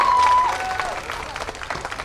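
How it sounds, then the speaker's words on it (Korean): Audience applause fills an outdoor band concert at the 2019 We Love Gwangalli festival, steady and fairly loud from a crowd, easing slightly after the first half-second, with a faint voice briefly under it. "여러분 큰 박수 부탁드리겠습니다."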